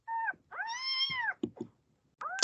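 A kitten meowing in a video played back, with several drawn-out plaintive meows and a few shorter cries, clear and fairly close, with no talking.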